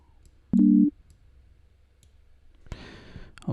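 A single short synthesizer chord for a dub techno track, sounding briefly and loud in the middle, then followed by faint clicks and a burst of noise.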